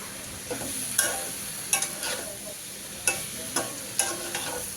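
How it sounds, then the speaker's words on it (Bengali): Spiced potato bhaji frying in a pan while being stirred, a steady soft sizzle with scraping strokes of the spoon every second or so, close and alone. "আর আলু ভাজি করব, তো আলু ভাজিটা একটু সব ধরনের মশলা দিয়ে একটু কষিয়ে নিচ্ছি"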